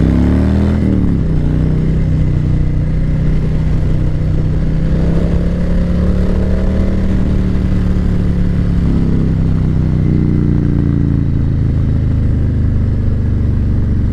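A 2020 Harley-Davidson Low Rider S with its 114 motor rumbles loudly and steadily while riding, the deep engine note rising and easing slightly under constant wind roar, close and continuous without voices.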